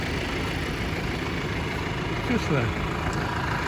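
A New Holland T5 tractor idles with a mower mounted on the back, giving a steady low engine rumble that runs through the whole moment while someone talks over it close by.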